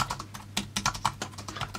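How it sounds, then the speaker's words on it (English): Keys clatter on an inateck BK1002E wireless keyboard made for iPad, a steady run of soft, close plastic clicks at an uneven, fairly slow typing pace, with no voices over them. "My typing is slow, isn't it?"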